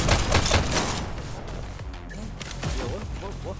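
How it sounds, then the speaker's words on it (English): Rapid volleys of gunfire crackle through a match in the video game HyperDash, densest at the start. A voice talks over the shooting later in the clip. "Are you just mindlessly shooting?"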